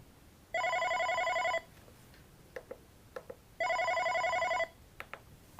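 An OpenStage 40 desk phone rings with an incoming call: two bright, electronic ring bursts about a second long, separated by a pause. Faint soft clicks fall between them.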